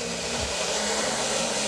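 A handheld blow dryer roars in a constant, close, full whoosh while drying glue on a pixie-cut wig, steady throughout with no talking.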